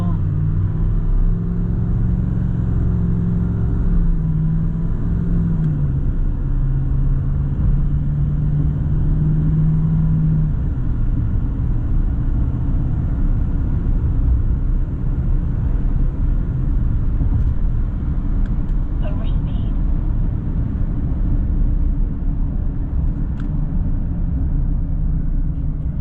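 L5P Duramax diesel pickup under three-quarter throttle acceleration, heard from inside the cab: a loud steady low engine drone with rising tone early on, continuous road rumble throughout, and no speech.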